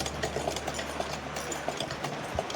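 A sewing machine stitches a fabric strip for a small gown dress, running as a steady low motor hum with faint repeated needle ticks. The stitching carries on close and fairly quiet, with no talking.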